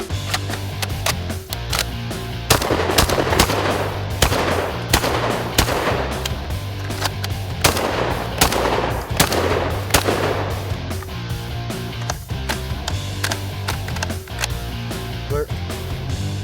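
An IWI Tavor TS12 12 gauge shotgun fires a rapid series of loud, sharp blasts in quick succession, with the shots tapering to sparser reports toward the end.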